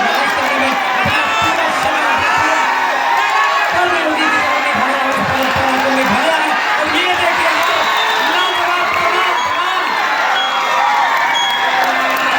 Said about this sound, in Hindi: दर्शक दीर्घा में कमाल हो गया गुरु, बढ़े हुए हाथ तालियों के लिए खुल गए।